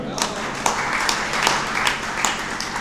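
Audience applause at a Hindi poetry gathering (kavi sammelan) held at a martyrs' memorial assembly in Bhiwani: a dense, steady patter of many hands clapping, with a few sharper claps standing out and voices mixed in.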